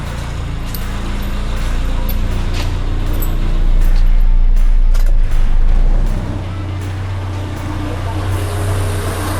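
Car engine idling with the air conditioning switched on during a refrigerant check, a steady close rumble and hum that swells briefly in the middle, with no talk.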